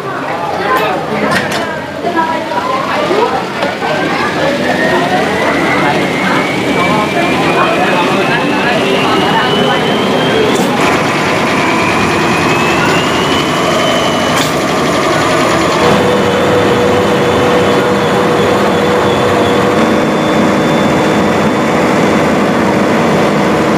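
Refrigeration machine at an ice factory starting up and running, a heavy mechanical hum with a rising whine that climbs and settles into a steady drone, loud and close as someone talks over it.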